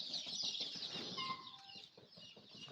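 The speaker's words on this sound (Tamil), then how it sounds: "இதெல்லாம் தாய்க்கோழி." Country hens on an organic farm cluck in a steady, busy chatter, with several mother hens calling close by over faint outdoor background noise.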